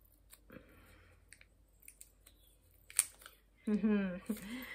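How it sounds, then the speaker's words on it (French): Quiet scattered clicks and small crinkling sounds of someone struggling with adhesive tape, then a voice speaks near the end. "un pauvre scotch me résiste."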